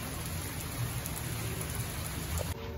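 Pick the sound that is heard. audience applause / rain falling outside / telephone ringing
rain falling outside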